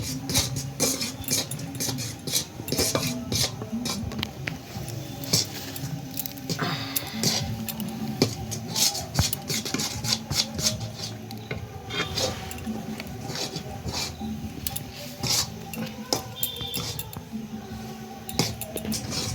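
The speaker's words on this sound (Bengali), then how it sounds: "হাঁড়িটা তো পুরো সিল করে নিয়েছি" Clinks and scrapes of a clay pot and its lid as the lid is pressed down to seal the pot of handi chicken, a busy, steady clatter that runs throughout with no talking.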